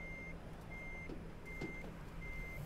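Reversing alarm of a Mercedes truck in the Trucks & Trailers parking game, set off by an apparent electronics glitch: four loud, steady beeps at an even pace over a constant low engine hum.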